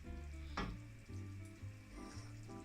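Tuna pasta sauce with olives and capers, for pasta al tonno, sizzles and simmers in a pan with a steady, soft bubbling hiss throughout.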